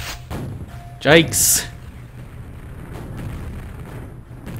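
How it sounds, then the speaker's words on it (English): A grenade blast in the arena shooter Thunderdome lands as one short burst, under the voice of a match commentator, and is followed by a quieter rumble. "he kills him with the grenade"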